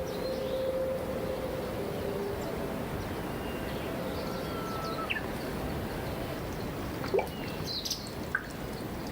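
Small birds chirping in a forest on the Ogasawara Islands, with sparse, brief calls scattered over a steady dripping, watery background and growing a little busier toward the end.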